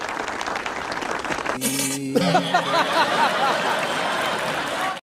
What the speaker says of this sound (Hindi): चलो ताली बजाने के लिए।